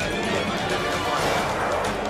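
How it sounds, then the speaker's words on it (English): Crash of a JAS-39 Gripen fighter jet hitting the ground and exploding, a dense, loud, continuous roar of impact and blast noise lasting the whole clip, close and without speech. "The fighter plane smashes to the ground and explodes on impact."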